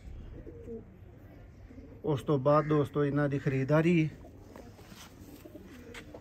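Pigeons coo in a rhythmic series of throaty, warbling calls, loud and close for about two seconds, while someone talks before and after.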